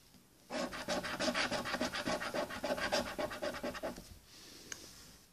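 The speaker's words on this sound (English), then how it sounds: "all right, let's start scratching." Scratch-off lottery cards being scratched in a steady run of close, dry rasping strokes lasting several seconds, then stopping into quiet.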